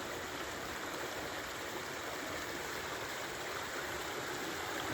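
Creek water flows steadily at the headwaters of the Twin Rivers, Jameson Creek, a continuous broadband rush and burble that stays close and even throughout, with no voices.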